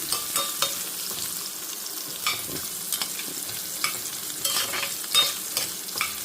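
Carrot pieces, with coconut pieces, are stirred and fried in a pan for a chutney, a continuous sizzle broken by repeated scraping and tapping strokes of a spatula at an irregular rhythm, close and moderately loud.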